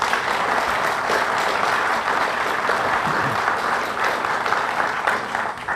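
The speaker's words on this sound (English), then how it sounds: "So Ted, we really owe him a great applause and tremendous thank you." Sustained applause from a sizable crowd at a courthouse ribbon-cutting ceremony, dense steady clapping throughout with no pauses, loud and close.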